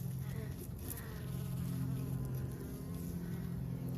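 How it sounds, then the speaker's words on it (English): A single live honeybee buzzes steadily and close at a winter hive entrance, a continuous droning hum with no talking. "There's one live bee."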